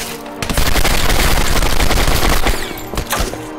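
Sustained, loud burst of rapid gunfire in the Turning Point video game, dense automatic shots merging into a continuous fusillade that holds for about two seconds before tailing off into scattered, separate shots.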